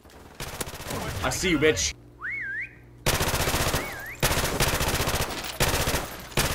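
Rapid automatic gunfire bursts in a Call of Duty: Modern Warfare Remastered prop hunt match, loud and repeated, broken by rising whistle-like tones, with a player shouting briefly.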